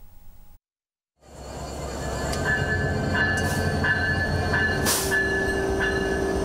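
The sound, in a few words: special agricultural goods train running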